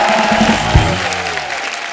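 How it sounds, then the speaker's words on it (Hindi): Studio audience applause on a Hindi comedy talk show, a dense burst of clapping filling the short stretch, with a brief thump partway through and faint voices mixed underneath. "खैर हमारे स्टार लोग के लिए जोरदार ताली"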